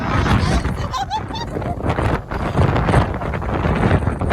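Strong wind buffets the microphone in loud, rumbling gusts, blustering continuously with a brief voice underneath.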